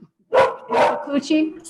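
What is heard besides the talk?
dog barking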